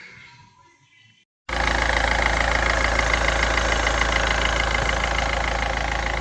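A Peugeot 206 car engine fires up after a short quiet lead-in, then settles into a steady, loud idle that runs evenly to the end.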